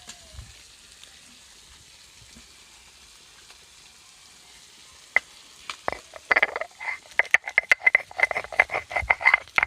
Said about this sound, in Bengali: কাঁকড়াটা এদিকে একটু ভাজা ভাজা হতে থাক।